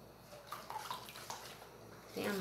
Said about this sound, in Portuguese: Coloca 100 ml de água também, por favor, aí.